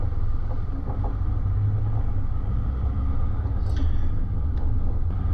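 A car rolls along a dirt bush track in the Pyrenees, giving a steady, close low rumble of engine and tyres on uneven ground with no talk.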